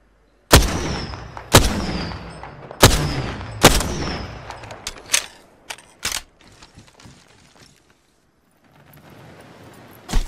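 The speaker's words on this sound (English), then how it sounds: "Opening fire on the enemy." Video game gunfire in an armed and dangerous mode, a string of sharp, loud, close shots with ringing tails, four heavy blasts in quick succession followed by lighter scattered shots and one more near the end.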